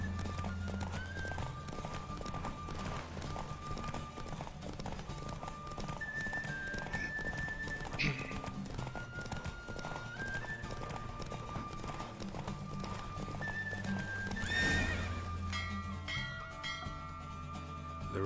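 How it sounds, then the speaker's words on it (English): Horse galloping in a Witcher 3 horse race, a steady fast clip-clop of hooves running throughout with game music and occasional effects layered over it, no speech. "So gewinnt man Pferderennen."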